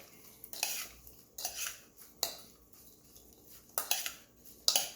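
Bibimbap being mixed in a bowl for a Korean rice dish: a series of sharp clinks and scrapes of a utensil against the bowl, spaced irregularly and fairly close, with quiet gaps between them.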